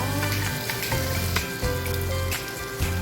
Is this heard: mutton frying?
yes